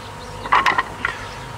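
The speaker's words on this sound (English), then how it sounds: "Now, generally speaking, Robert, are the bees aggressive during this time, or are they pretty mild?" Bees buzz briefly while a new colony is being settled into its hive box, a few short close bursts of insect drone rising and fading over a faint steady background.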